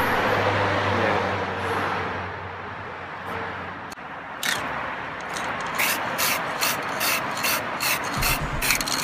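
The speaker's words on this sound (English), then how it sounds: "We actually sand it down a lot more, and also Reuben actually sprayed on quite a" Sandpaper works over deep scratches on a car part before spray painting, rubbing in a steady rasp that gives way to rapid rhythmic back-and-forth strokes, close and fairly loud, with no talking.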